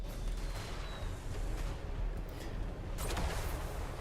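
Rumbling volleys of flame cannon fire crackle and boom across a Warhammer 3 battlefield, with dense battle noise throughout and a sharper blast near the end.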